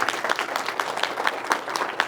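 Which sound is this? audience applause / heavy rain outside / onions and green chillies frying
audience applause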